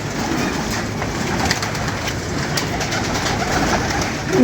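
Soft, low cooing of pigeons repeating over a constant background hum, with faint fluttering and rustling nearby.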